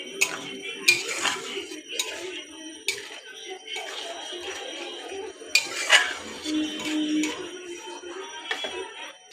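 Fish with turmeric, salt and Kashmiri chilli powder is sautéed in a pan, mostly heard as sharp clinks and scrapes of a utensil against the pan, with a faint fry underneath.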